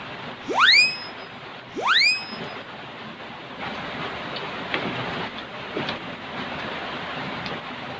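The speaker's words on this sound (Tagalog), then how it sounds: "Ulan karon." Rain pours in a steady, even hiss, with two short rising whistles cutting through near the start.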